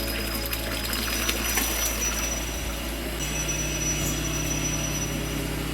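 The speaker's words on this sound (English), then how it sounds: "By pressing the button of recirculation, we can see that it is recirculating" A pump runs steadily, recirculating liquid back to bleach, giving a constant close mechanical hum with a faint liquid wash and no pauses.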